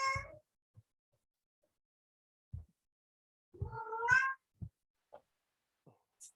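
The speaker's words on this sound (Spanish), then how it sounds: "Jackie, creo que tu gato no nos dejó escuchar muchas cosas" A house cat meows loudly and close by, first with a brief cry and then with a longer drawn-out meow a few seconds later, separated by faint scattered clicks and quiet gaps.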